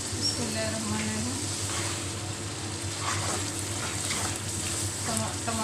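Tomatoes frying in oil in a pan for a turai (ridge gourd) sabzi, a steady close sizzle running the whole time with faint scraping, and no one talking.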